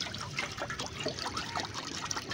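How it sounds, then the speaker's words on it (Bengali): Water pours into a wok with a steady trickling splash, close and continuous, no voices. "কড়ার মধ্যে আমি পরিমাণ মতো জলটা দিয়ে দিয়েছি"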